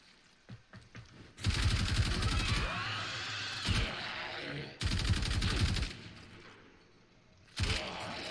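Kuva Karak rifle fire in Warframe comes in loud, sustained automatic bursts of about a second or more each, separated by brief gaps, with mechanical clatter underneath and no talking.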